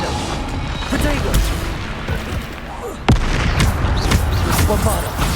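Booming blasts from the Bombarda explosion spell in Hogwarts Legacy go off amid a dense, loud battle din, with a sharp impact near the middle and a voice shouting over the chaos.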